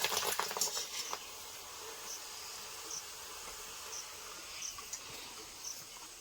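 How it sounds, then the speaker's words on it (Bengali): Papad deep-frying in hot oil, a faint, steady high sizzle and crackle with a few brief louder pops near the start. "এই যে দেখো ভাজা হচ্ছে পাপড়"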